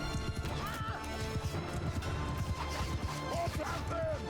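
Cavalry horses charging in the video game Mount & Blade II: Bannerlord, a loud battle scene of rapid clip-clopping hooves, repeated whinnies and crashing impacts, with a voice talking over it.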